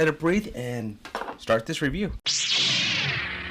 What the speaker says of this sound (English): Let's pop this bottle open and set it aside